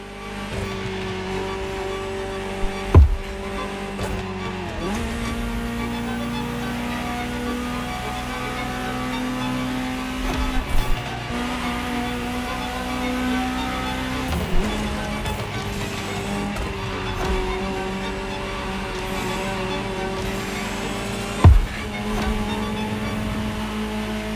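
A Ferrari supercar engine in The Crew Motorfest drones steadily at high revs, with occasional gear shifts and brief pitch dips, loud and sustained throughout.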